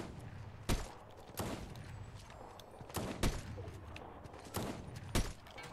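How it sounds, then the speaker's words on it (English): Gunfire in the video game Fortnite: about seven sharp, loud single shots at irregular intervals, each a bright broadband crack with a short tail, over a steady low background hum and no voices. "Dang, I can't shoot you. I'm trying. We both shooting crazy."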